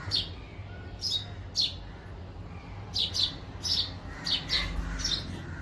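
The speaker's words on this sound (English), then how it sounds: "first time I'm hearing a sparrow, and I had to document it on video" Short, bright sparrow chirps repeat irregularly, some in quick pairs, over a low steady background hum; no one speaks.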